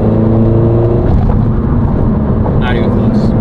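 Steady, loud low rumble of all-season tires rolling on pavement under a Honda Civic, a continuous road drone filling the cabin with faint higher hiss above it.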